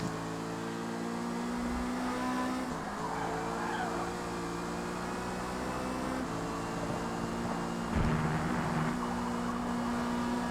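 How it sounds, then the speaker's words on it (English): A race car's engine drones steadily in a racing video game, with a tire skid from a brake lock-up rising briefly near the end over the continuous engine tone. "A little bit of a brake lock up"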